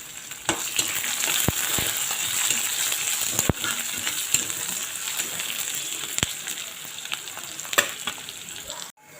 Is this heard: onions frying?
yes